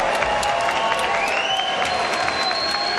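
Arena crowd at a live MMA event applauding and cheering both fighters after a bout, a dense continuous roar of clapping with whistles and shouts rising over it, steady and close throughout.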